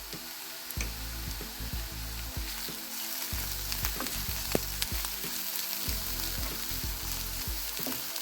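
Loud frying sizzle in a pan with repeated scraping and clatter of stirring over medium heat, close up and continuous, while frying hake with vegetables.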